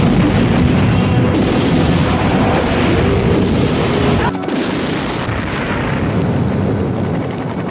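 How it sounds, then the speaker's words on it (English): Explosions from the 1980s action TV series Highwayman, a continuous loud, rumbling roar of blasts and debris with a sudden shift in the middle, thick and close throughout. "explosions"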